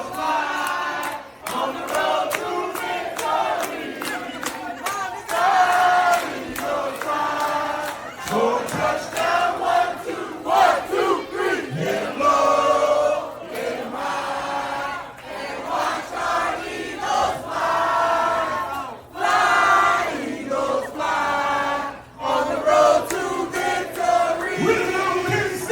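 Houston fans gathered at Patterson Park for a football game shout and cheer together, a dense crowd roar with rising and falling yells and whoops packed close.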